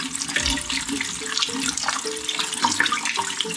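Water pouring and splashing out of a Mercedes 350 SLC coupe during a project restoration, a steady close trickle with gurgling bursts, loud and continuous, no voices.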